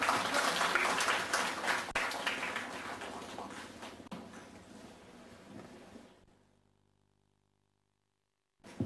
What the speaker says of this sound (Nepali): सबैजनालाई ताली बजाएर उहाँलाई स्वागत गरौँ।